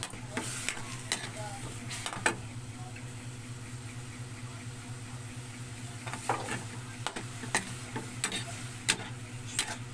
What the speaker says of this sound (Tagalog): Kuluan lang natin hanggang sa maluto yan siya. Halo-halo lang natin.